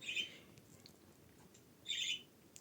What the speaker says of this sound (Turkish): ne yaramaz bir kuşsun sen ya